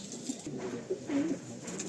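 A pair of long-size Giribaz pigeons, male and female, held in the hands, giving soft low coos close up in short bursts.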